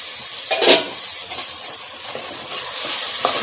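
Two tomatoes tipped into a hot pan for coconut rice sizzle and hiss steadily, with a brief louder burst as they land and faint stirring scrapes, no voices.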